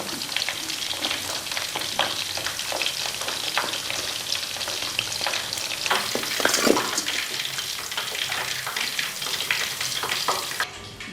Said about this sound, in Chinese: 把切好的土豆条给它过一下油